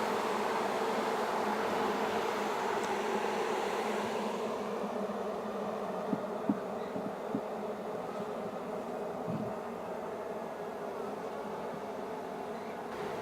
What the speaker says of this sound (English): shook the remaining little cluster of bees off that branch into the bucket